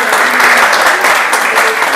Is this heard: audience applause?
yes